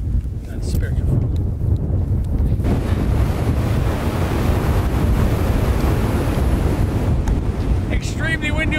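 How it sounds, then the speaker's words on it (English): Strong wind on a Peak District hilltop roars and buffets against the microphone in a loud, continuous blast, with brief snatches of a voice at the start and end. "Extremely windy up here, more than the forecast."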